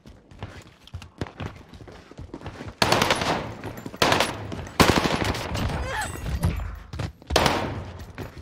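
Bursts of automatic fire from the H4 Blixen in Rebirth Island, several loud rapid volleys from about the three-second mark, with lighter clicks and footsteps between them.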